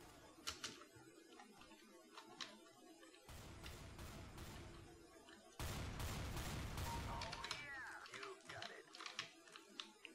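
Gunfire in the video game CS:GO comes in two long, rapid bursts of automatic shots, loud and close, with scattered single shots and a voice before and after.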